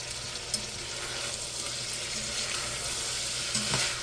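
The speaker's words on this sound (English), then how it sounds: "We're going to let these saute for a little bit." Celery and carrot sautéing in a pan give a soft, even sizzle, fairly quiet, with a couple of light knocks and a brief watery splash near the end.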